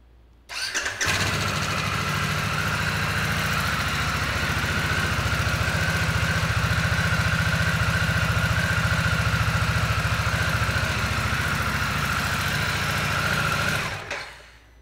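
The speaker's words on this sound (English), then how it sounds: "We're gonna start this Nightster up here." A Harley-Davidson Sportster Nightster motorcycle engine fires up and settles into a steady, deep idle, rumbling evenly for over ten seconds before cutting off.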